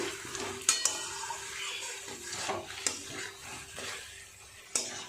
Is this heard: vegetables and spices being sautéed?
yes